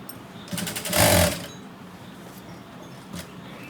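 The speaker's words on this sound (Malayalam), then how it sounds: "ഈ ഷോൾഡറും സ്റ്റിച്ച് ചെയ്യാം." A sewing machine stitches the shoulder seam of a garment, making a short, loud burst of rapid mechanical needle clatter up close, then going quiet apart from a brief tap near the end.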